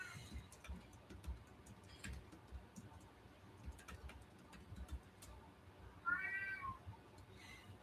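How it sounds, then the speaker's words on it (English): A pet cat meows faintly a couple of times in the background of an indoor live stream, with soft ticking and low room noise around it. "get the kitty so he doesn't meow in our ears the whole time"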